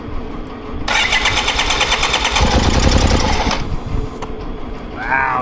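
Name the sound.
BMW K75RT motorcycle engine idling after injector fix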